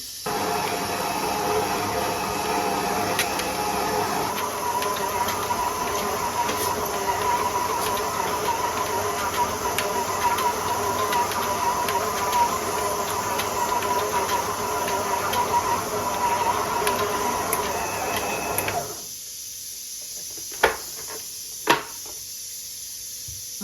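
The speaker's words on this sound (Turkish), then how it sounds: "Köftenin dış harcını makineye aldım. Makine yoğuruyor." A kitchen machine kneads köfte dough for Malatya-style analı kızlı köfte, a steady whirring drone running for most of the clip, then cutting out to near silence with a couple of faint knocks.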